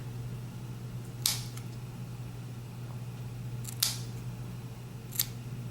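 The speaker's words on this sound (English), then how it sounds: "I'm going to take my scissors and I'm going to cut 2 ends of this off" Scissors snipping the ends off a candle wick, three sharp separate cuts spaced a couple of seconds apart against a quiet background hum.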